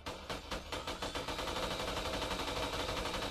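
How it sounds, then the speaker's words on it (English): Rapid, continuous chain gun fire in a video game, a dense stream of evenly spaced shots that continues throughout without pause. "Yes, it's a chain gun."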